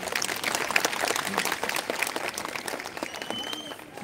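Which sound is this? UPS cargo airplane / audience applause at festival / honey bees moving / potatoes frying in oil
audience applause at festival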